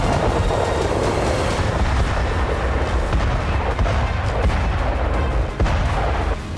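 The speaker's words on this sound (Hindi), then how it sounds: "हर मिनट बारूदी धमाका" Continuous heavy rumbling barrage of artillery fire and gunpowder explosions in the Russia–Ukraine war, dense booms overlapping with no pauses, loud and sustained throughout.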